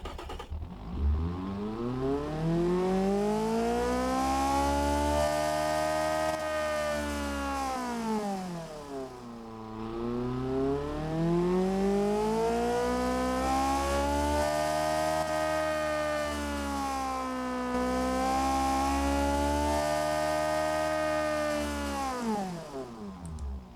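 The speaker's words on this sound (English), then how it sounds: "Sounds very good at the end of its rev range." A 660cc car engine in a driving game revs repeatedly toward 9500 RPM, its loud, harmonic whine climbing and falling in three long sweeps with no pause between them.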